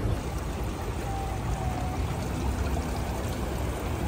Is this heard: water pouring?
yes